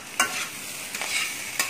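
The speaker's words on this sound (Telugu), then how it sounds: "దాన్ని బాగా ఇలా కలుపుకోవాలి, ముక్కలన్నిటికీ పట్టేటట్టుగా ఇలా కలుపుకోవాలి" A spoon stirs beetroot, ginger and onion curry frying in a pan, giving three short scraping strokes over a soft, steady sizzle with no talk.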